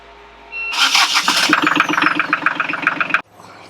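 A sailboat's marine inboard engine cranks and catches, then runs with a rapid, rhythmic chugging close by before cutting off abruptly.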